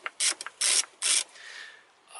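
A ratchet tool loosens a bolt on the throttle body of a 2000–2010 Toyota Corolla, sounding as several close, sharp bursts of rapid clicking separated by short pauses, followed by a quieter mechanical rattle.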